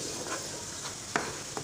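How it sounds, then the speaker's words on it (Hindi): Onion paste being fried in oil in a pan gives a steady broadband sizzle throughout, with a couple of brief scraping stirs near the end. "पेस्ट हमने बनाया है प्याज वाला, इसको हम भुनेंगे"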